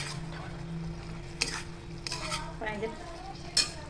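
Manchurian pakodas are stirred in a pan with a spoon, giving soft scraping and clinking of metal on the pan over a light background sizzle, with a few sharper knocks; no voices.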